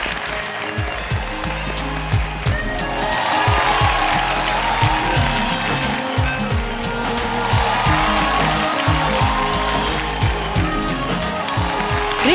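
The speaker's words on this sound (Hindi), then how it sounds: "जोरदार तालियां दोस्तों।" A studio audience on a Hindi TV game show breaks into loud, sustained applause, dense clapping holding steady for the whole stretch under faint background music.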